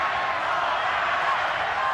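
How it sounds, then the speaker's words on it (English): Boxing arena crowd at a Morales vs Barrera bout, a steady, dense roar of cheering voices that holds at an even level throughout with no pauses. "Crowd really getting into it."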